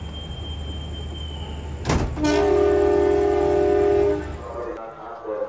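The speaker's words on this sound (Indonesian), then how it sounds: "Ini ceritanya persilangan sama Probowangi dari Ketapang tujuan Surabaya ya kalau nggak salah di stasiun Kalisat." On board an economy train waiting at Kalisat station, a steady rumble as the Probowangi train passes, with a loud thump, a long sustained horn blast, then the noise dropping away; a voice speaks briefly.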